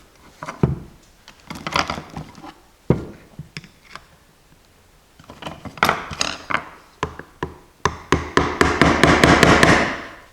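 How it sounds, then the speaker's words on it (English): Hammering blows from a punch driving a snap ring into its groove on a snowmobile idler/bogie wheel during bearing replacement: sharp metallic taps in irregular bursts, speeding into a rapid, loud series of strikes near the end. "I'm going to basically pound it over this way so it goes fully into the groove"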